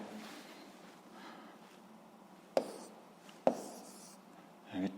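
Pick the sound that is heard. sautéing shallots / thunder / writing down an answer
writing down an answer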